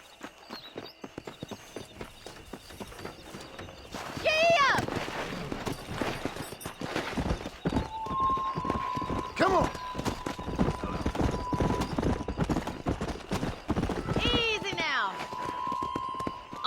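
Horse hooves galloping in the video game Red Dead Redemption: rapid, continuous clip-clop beats close by, with a horse whinnying twice over a faint musical tone and occasional background voices.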